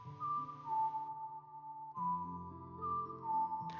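Whistled melody from the Ocarina of Time video game, a short tune of clear sustained notes played twice in a row, fairly soft under a light musical backing.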